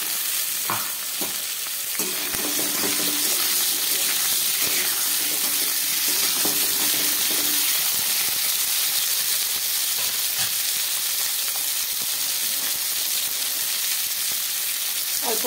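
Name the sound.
potatoes and flat beans frying in a pan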